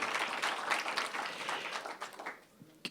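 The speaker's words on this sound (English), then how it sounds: "So please let's give another round of applause to everyone at El Centro" An audience at a diaspora summit panel gives a round of applause, fairly loud at first and then thinning into scattered claps before it fades out.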